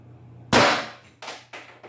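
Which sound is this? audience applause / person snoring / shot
shot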